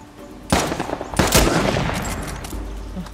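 Gunfire in the video game Uncharted 4: Lost Legacy, with two loud, close sharp blasts followed by a scatter of further shots and a decaying rumble.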